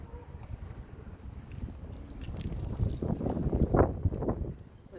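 Wind blowing outdoors, a low rumbling buffet across the microphone that builds into stronger gusts toward the end before easing off.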